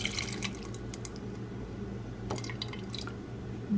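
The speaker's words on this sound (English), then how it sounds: "So let's pour in 60 milliliters of the hot water here first" Hot water, about 60 millilitres, pours steadily into a cup for matcha, a continuous close trickle and splash with light dripping, with no talking over it.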